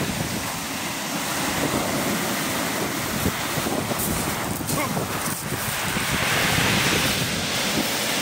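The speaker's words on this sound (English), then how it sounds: "After this nice big wave" Ocean waves breaking on a beach shore at about 45 minutes past high tide, a continuous loud rushing surge mixed with strong wind buffeting the microphone, and someone speaks over it.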